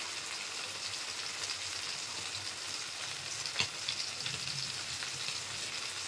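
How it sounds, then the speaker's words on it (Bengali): Steady, continuous sizzling of prawns frying in hot oil, with a crackling hiss throughout and one brief louder pop partway through. "এইভাবে এই চিংড়ি মাছটাকে আমি সুন্দর করে ফ্রাই করে নেবো"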